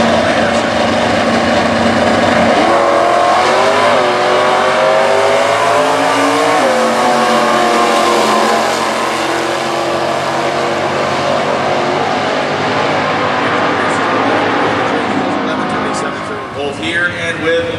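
Stock Eliminator drag race cars at the US Nationals launching down the strip, a loud sustained engine roar with rising revs as they accelerate away, under continuous announcer commentary.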